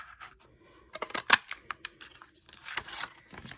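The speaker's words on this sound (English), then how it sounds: "I'm going to take a piece of Pear Pizzazz, and I'm going to cut a 2-inch circle." Scissors snip a 2-inch circle from Pear Pizzazz cardstock in a paper craft, giving a run of sharp, close clicks and crisp cuts in short irregular bursts with quiet gaps.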